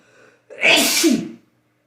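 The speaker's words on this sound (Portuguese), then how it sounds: "Pausa, espirro." One sharp, loud sneeze bursts out close by after a brief faint intake of breath, then stops abruptly into silence.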